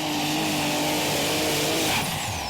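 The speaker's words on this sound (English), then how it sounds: "Boosting up now, just walking it off the line. Lots of RPM there with Pauli." A pulling tractor at a Eurocup tractor pulling event in Brande, Denmark roars down the track at high RPM, a loud, close, sustained engine blare that rises in pitch and holds steady throughout.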